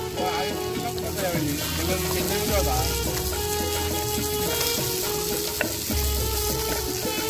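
Funtus fish frying on a tawa, a dense continuous sizzle with occasional spatters and scraping stirs, close and steady, with no one talking.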